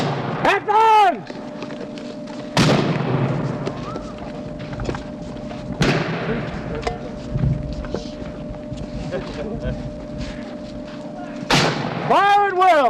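Musket volleys fired at a Battle of Natural Bridge reenactment, several sharp loud blasts spread apart outdoors with wind noise, while people shout commands between the shots.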